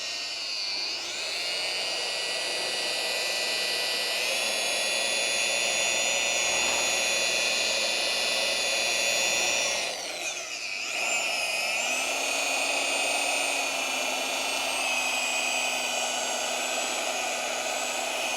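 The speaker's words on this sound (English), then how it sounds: "I've got to hold the tool this way just for the directionality of the rotary polisher" A rotary polisher works an aluminum C10 grill with a continuous high-pitched motor whine close by, briefly dipping near the middle before resuming, then settling into a steady lower hum.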